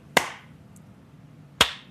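A group claps in time on a spoken three-two-one countdown, giving two sharp, close claps about a second and a half apart over a quiet room hum.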